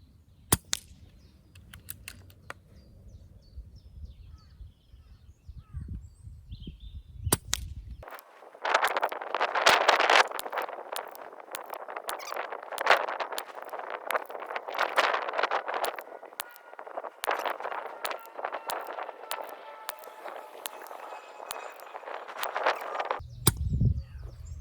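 An Air Arms S510R Ultimate Sporter air rifle fires JSB Hades 15.89 grain pellets through two magazines, giving a series of sharp, dry cracks spaced through the clip with a steady background hiss, close and fairly quiet.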